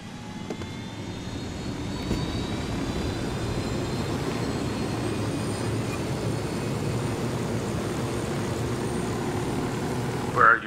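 Aircraft engine drones steadily in the video game Ghost Recon Wildlands, a loud, constant whine and roar held for the whole stretch, ending with a short sharp electronic blip.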